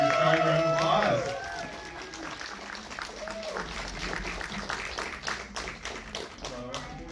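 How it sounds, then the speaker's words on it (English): Audience applause at a film festival Q&A welcoming the stars of the film My Future You, a steady wash of clapping and crowd noise that follows a short stretch of amplified voice and continues at moderate volume. "give your strong round of applause"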